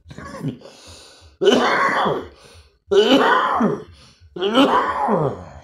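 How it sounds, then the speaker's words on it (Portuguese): Three strong, raspy bursts of coughing and throat clearing, close up and separated by short pauses, with faint background sounds between them. "Eu começo a falar, vem a tosse"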